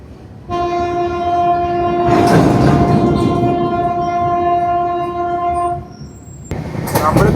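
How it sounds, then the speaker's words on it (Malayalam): A goods train approaching on a foggy rail line near Jammu sounds a long, steady, loud horn for about five seconds over a deep rolling rumble of wheels, with a brief further clatter at the end. "ഒരു ഗുഡ്സ് ട്രെയിൻ വരുന്നുണ്ട്, വേഗൻ അയനാണ് കേട്ടോ ലോക്കോ."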